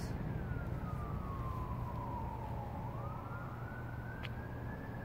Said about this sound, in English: I can hear police sirens.